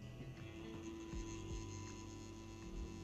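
A weak motor in a CPTink Captain One wireless adjustable-stroke tattoo pen runs with a faint, steady electric hum and a light throbbing undertone, continuous throughout with no other sounds.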